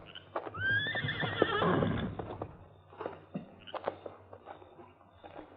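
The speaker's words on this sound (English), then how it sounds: "the occasional whinny of restless cavalry horses" A cavalry horse lets out a high whinny, followed by scattered hoof clops and shuffling at moderate distance against a faint background hum.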